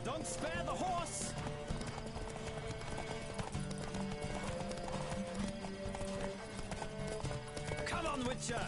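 Galloping horse hooves in a Witcher video game race, a fast steady clip-clop with occasional whinnies, heard under game music and voices throughout.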